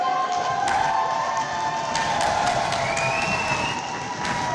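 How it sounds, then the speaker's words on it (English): A crowd cheering and shouting at a close roller derby game between Durham and Birmingham B, a steady roar of voices with whistles and scattered claps, sustained and moderately loud throughout. "I want you to cheer for every single skater in this game"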